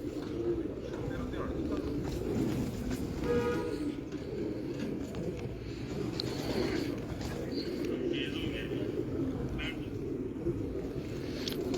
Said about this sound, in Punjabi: ਦੋਸਤੋ, ਇਹ ਨੇ ਸ਼ਰਮੀਲੇ ਕਬੂਤਰ।